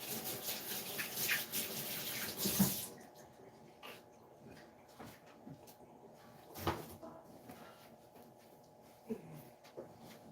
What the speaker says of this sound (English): Wash my hands here real fast.